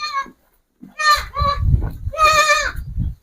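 A two-day-old goat kid on a farm gives several short, high, nasal bleats in quick succession, loud and close, with muffled handling or shuffling noises between cries.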